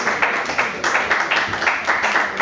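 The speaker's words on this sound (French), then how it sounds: "Public, je vous demande d'applaudir le clou du spectacle" An audience applauds at a show, dense steady clapping heard close and fairly loud with slight rhythmic swells.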